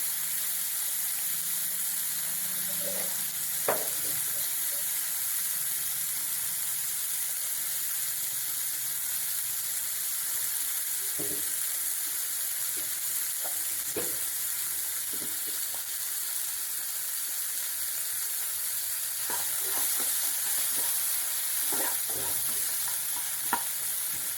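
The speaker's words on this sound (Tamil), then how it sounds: "உருளைக்கிழங்க கொஞ்சம் உடச்சி விட்டு குக் பண்ணுங்க" Potatoes frying in a pan with chilli powder as a snack, a steady quiet sizzle and hiss throughout, broken by scattered light scraping and stirring clicks of a utensil, with no voices.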